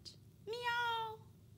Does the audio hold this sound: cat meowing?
yes